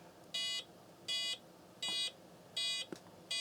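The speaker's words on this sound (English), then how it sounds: "That was a lot more beeps" Five evenly spaced electronic computer motherboard beep codes sound in a steady rhythm, each about a quarter second long, bright and buzzy against a quiet background.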